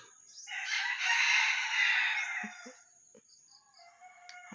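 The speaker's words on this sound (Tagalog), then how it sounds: "Tumitilaok pa rin." A red junglefowl rooster gives one long, strained crow lasting about two seconds, close and clear, followed by faint clucks and small rustling sounds.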